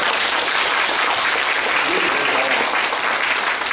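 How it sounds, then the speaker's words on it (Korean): An audience at a tourism day award ceremony in Suncheon bursts into continuous, dense clapping that fills the whole moment at steady strength. "제 말이 맞으면 박수 한번 치세요"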